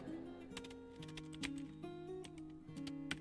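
Computer keyboard keys clack in quick irregular bursts while someone types code, close and clear over a faint tonal hum.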